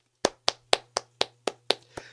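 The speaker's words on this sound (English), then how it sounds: "Round of applause" Steady hand clapping at an even pace, about eight sharp claps in two seconds, close and fairly quiet, with no voices over it.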